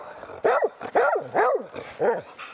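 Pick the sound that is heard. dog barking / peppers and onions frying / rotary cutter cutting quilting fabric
dog barking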